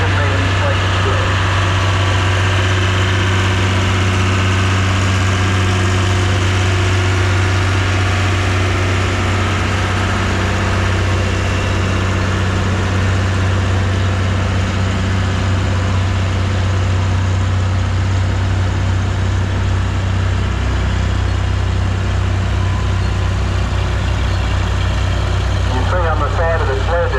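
A vintage tractor engine rumbles steadily at a tractor pull practice day in Korumburra, its deep, loud idle continuous and close throughout, with a faint voice underneath.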